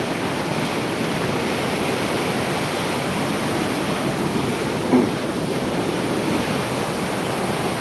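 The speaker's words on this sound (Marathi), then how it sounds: "काही पाणी असं खाली बघू देत नाही एवढा पाण्याचा स्रोत आहे" Floodwater rushing through a burst pond embankment in a village, a steady loud roar of pouring water that runs continuously with no break and no voices.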